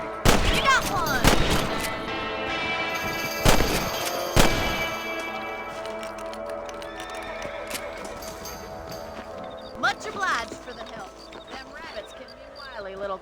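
Gunfire from the Red Dead Redemption video game: several sharp shots early, with a horse whinnying and hooves clip-clopping, over a bed of in-game music and effects.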